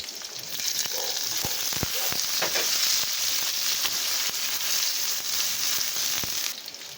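Garlic, onion and ginger sauté in hot oil in a pan, giving a loud, steady sizzle with a few sharp scraping or clinking strokes across it; no one speaks.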